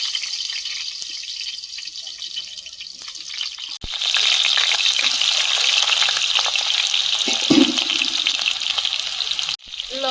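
Potatoes fry in hot oil in a wok, a steady close sizzle and crackle that swells louder about a third of the way in and keeps hissing, with a brief clatter near the end.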